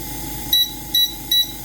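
An AromaO2 device gives three short, even electronic beeps as its power button is pressed, close and clear over a steady background hum.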